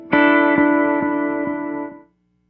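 Electric guitar playing a chord, then struck again three more times in an even rhythm, run through delay and reverb with a volume pedal placed last in the chain. Each attack rings with sustained harmonics before the trails are cut cleanly to silence.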